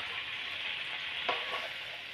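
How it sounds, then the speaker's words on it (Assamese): Jackfruit greens tossed with spices in a frying pan give a soft, continuous sizzle, quiet and close, with one brief scrape of the spatula midway. "ধুনীয়াকৈ গোটেইখিনি লৰাই দিছোঁ, গোটেইখিনি এতিয়া মছলাখিনি লাগি যোৱাকৈ ধুনীয়াকৈ লৰাই দিব লাগিব"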